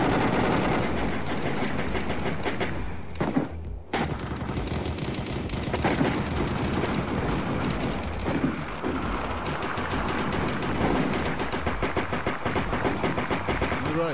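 Celebratory gunfire into the air in the video game DayZ, a sustained rattle of overlapping rifle shots from several players, loud and near, with a brief lull before the firing picks back up.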